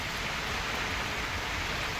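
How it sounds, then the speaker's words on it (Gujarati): Steady, even rain falling in Dindoli, Surat, a dense wash of soft hiss with no distinct drops or voices, moderate and unbroken for a couple of seconds. "બરાબરનો વરસાદ ચાલે છે"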